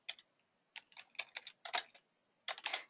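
Close, clear typing on a computer keyboard: irregular bursts of quick key clicks with short pauses between them, heard alone in a quiet room.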